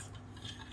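Brownie batter stirred in a bowl, a short, soft, close scraping sound.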